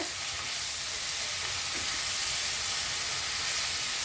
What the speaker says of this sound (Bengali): দেখতে পাচ্ছ পেঁয়াজটা হালকা হালকা ভাজা হয়ে গেছে।